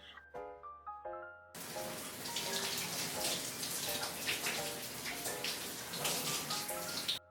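Water runs steadily from a tap, a continuous splashing stream that starts abruptly after a few brief musical tones.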